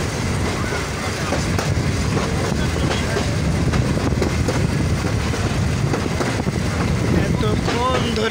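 Dolonchapa Express train running into Rangpur, heard from on board as a steady, loud rumble with wind and rattling throughout, voices faintly mixed in.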